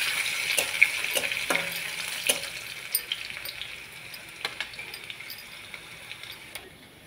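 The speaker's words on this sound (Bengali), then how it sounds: "ফোড়নটা দিয়ে এখন ওই যে থেঁচে রাখা রসুনটা দিয়ে দিব।" Garlic fries in hot oil with a bright sizzle while a spoon scrapes and clatters against the pan in irregular strokes, close up and alone.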